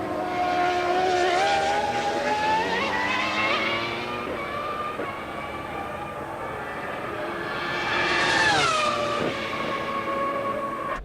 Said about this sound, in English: So this will sound like a sort of a 2000 generation Formula One car.